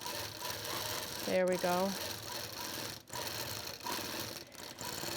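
A sewing machine quilts feather patterns, running in a fast, steady mechanical whir with brief pauses. It is close and continuous, and a voice speaks briefly over it.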